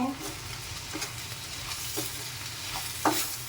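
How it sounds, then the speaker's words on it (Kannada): Green okra frying in a pan while being stirred, a constant close sizzle punctuated by several distinct scraping and clinking stirs, one sharper knock near the end. "ಸೊ ನೆಕ್ಸ್ಟ್ ಬೆಂಡೆಕಾಯಿ ಹಾಕಿ ಇವಾಗ ಅದು ಒಂದು ಸ್ವಲ್ಪ ಫ್ರೈ ಮಾಡಿದರೆ"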